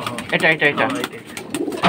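Pigeons, including large male birds, coo and flutter at a pigeon market, their soft calls layered under nearby talk and market bustle throughout the short stretch.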